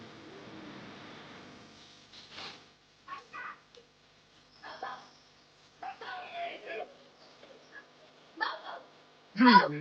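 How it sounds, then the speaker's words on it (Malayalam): Two dogs bark in short, scattered bursts at a coconut stall in Salalah, Oman, some sharper and louder than others, with indistinct voices in the background. "രണ്ട് അതിഥികൾ ഉണ്ട് അവിടെ വളർത്തുന്ന രണ്ട് നായകൾ"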